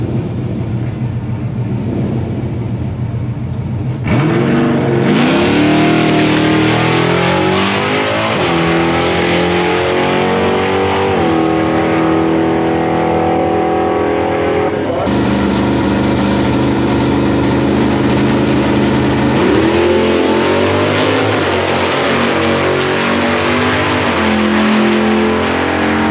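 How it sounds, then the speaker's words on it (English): 1966 Ford powered by a third-generation Hemi engine, loud and close, rumbling at idle before surging into repeated revs with rising and falling pitch, a brief dip then another hard climb. "Transmissions unit Gen brings out their 1966 Ford. It's powered by a third generation Hemi."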